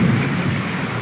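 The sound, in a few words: thunder during rain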